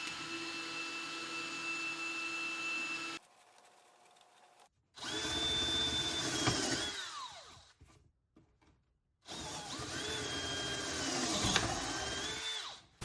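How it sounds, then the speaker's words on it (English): A power drill boring a small hole through the corner of an N scale model railway baseboard, heard as two loud, steady whining bursts separated by a short quiet gap. "Now I'll just get a small hole drilled through the corner of the base."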